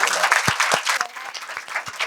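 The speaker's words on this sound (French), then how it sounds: "je vais demander d'abord à applaudir très très fort pour ce charmant public" A public at a Malian trophy ceremony claps vigorously, with loud, uneven hand claps close by and a few sharper individual strikes standing out.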